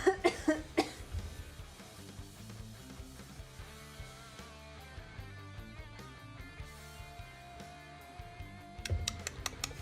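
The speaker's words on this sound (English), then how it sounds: "I don't know why the cough happened though" Several harsh coughs burst out at the start, followed by a faint, quiet indoor room with scattered small clicks and taps, and a few more sharp sounds near the end.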